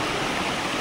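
Water pours steadily at the Baba Jatadhari waterfall, a loud, dense rushing roar that continues without a break through the short moment, with no voices.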